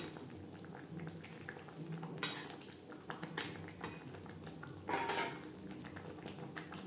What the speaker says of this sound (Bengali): শাহি গরম মশলা পাউডার বেশ ভালো করে মিক্সড করে দেব